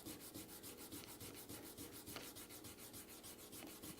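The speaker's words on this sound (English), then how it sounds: "I'm just going to very lightly sand that area" 220 grit sandpaper lightly sands wet stained cherry wood in quick, even back-and-forth strokes, a soft rhythmic rasping heard close up, faint and steady with no voices.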